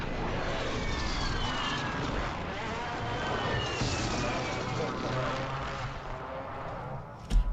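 Helicopter in a first-person shooter video game, a steady loud rotor-and-engine drone filling the whole stretch, with a brief sharp sound near the end.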